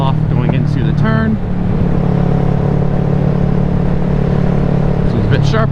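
A Kawasaki Ninja 650 motorcycle rides along twisty roads, its steady engine rumble shifting in pitch as it downshifts, brakes and accelerates, with a rider talking over it.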